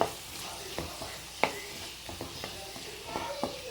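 Peas being stirred into cooked fenugreek in a pan for malai methi matar, a quiet sizzle broken by several spoon scrapes and taps against the pan, close and without talk.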